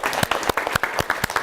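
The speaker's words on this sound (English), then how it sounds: "Give Lindsay a round of applause." Audience members at a Keuka College student event clap for a storyteller, a short burst of scattered, uneven hand claps with a few loud close ones.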